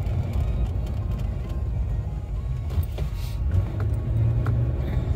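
A car drives along a road, heard from inside the cabin as a steady low rumble with road and engine noise throughout, close and continuous.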